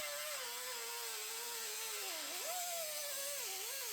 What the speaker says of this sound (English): Now I'm going to cut the floor out.